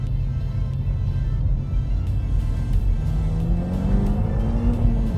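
A stage 1 SEAT Leon Cupra Mk2 accelerating in a short burst, a steady low engine drone heard from inside that climbs in pitch as revs rise toward the end.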